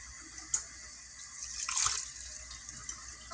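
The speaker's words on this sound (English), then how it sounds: "I'm going to add some more water." Water runs from a tap into a pot of spaghetti in a home kitchen, a soft splash building to a louder gush after a sharp knock, then settling into quieter trickling and drips.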